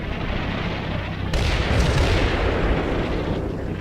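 Artillery fire in the Combat Mission video game: a dense, continuous rumble of distant shelling that swells into a louder, heavier barrage partway through and stays steady to the end.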